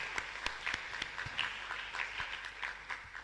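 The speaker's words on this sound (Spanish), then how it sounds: "Un fuerte aplauso entonces a la hermana y al Colegio Corazón de María" Applause at a live Sunday Mass in a parish church in Asunción, honoring a nun and a girls' school: scattered, fairly faint clapping with distinct individual claps spread through a room.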